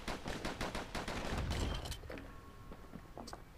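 Twin slinger pistols in the action game Bastion fire a rapid volley of sharp, punchy shots that run for under two seconds, followed by quieter game effects and fading echoes, with no talking.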